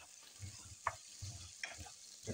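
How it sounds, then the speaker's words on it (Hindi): Potato pieces frying in a pan, a soft low sizzle with quiet stirring scrapes and a couple of sharper utensil taps, fairly faint and close. "बस इसको फ्राई कर लें क्योंकि आलू ज़रा गलने में टाइम लेते हैं"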